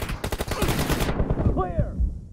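Rapid automatic gunfire in the mobile shooter game Scout 1v1 TDM, a loud burst of close shots for about a second followed by scattered rumbling impacts and a brief whooshing sweep.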